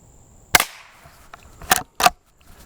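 Three sharp .22 short rounds fired from a Rossi Rio Bravo lever-action rifle, close and loud: one crack, a pause, then two more in quick succession, each with a short decaying tail.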